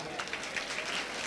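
Audience at a religious discourse gathering clapping, a brief burst of dense applause at moderate distance, steady for about a second.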